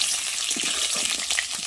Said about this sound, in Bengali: মাংস আলু ভাজা হচ্ছে